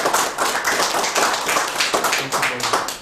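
An audience claps for the speakers at the close of a Q&A session, a dense, steady burst of applause from many hands sustained evenly for several seconds.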